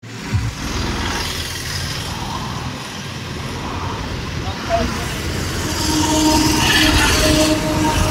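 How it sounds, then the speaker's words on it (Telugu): A train passes at a distance with a steady rumbling roll of wheels that swells slightly toward the end, faint squealing tones above it and someone talking over the sound. "అదిగోండి మీకు అక్కడ ట్రైన్ పోతుంది"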